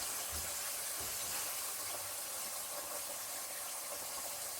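Chicken pieces frying in hot oil, a steady broadband hiss and sizzle running throughout at moderate level, with a few soft low bumps as pieces go in.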